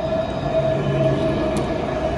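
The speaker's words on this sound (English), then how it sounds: "We are just crossing the road and the tram is come." A tram passes along a Dublin street, close and loud, giving a steady low rolling rumble of wheels on rails with a sustained electric whine over it and no break in the sound.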